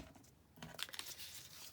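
Paper being folded into a small envelope flap, brief close crinkling and creasing over about a second, quiet, with no voices.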